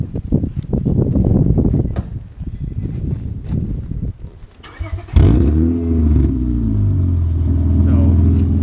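A Honda car's exhaust with a cherry bomb resonator right behind a far-out tip, revving in a garage: several loud throttle blips, then a sustained steady high rev that holds to the end.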